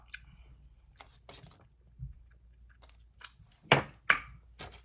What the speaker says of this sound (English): Until I crunch this thing down